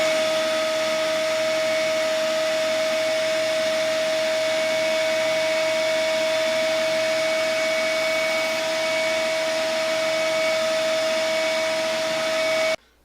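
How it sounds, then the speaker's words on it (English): A shop vacuum runs steadily and loudly, sucking up dried model railroad track ballast, its constant whine holding alone and unbroken until it cuts off at the very end. "Glue having dried, it's now time to vacuum it up."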